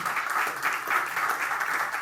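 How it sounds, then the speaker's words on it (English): A church congregation claps steadily in an even, moderately loud patter of applause for about two seconds, with no other sound over it. "yeah, clap. That's good."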